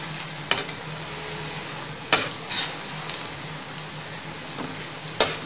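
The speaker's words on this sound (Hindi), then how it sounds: "पकौड़ियों को दोबारा से फ्राई कर लेंगे" Moong dal pakodi being fried a second time in hot oil over a low-to-medium flame, giving a steady soft sizzle with occasional sharp pops and clinks, close and fairly quiet.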